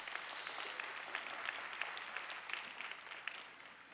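Steady applause from a sizable church congregation at a Sunday service, dense and sustained for the whole stretch, easing slightly toward the end.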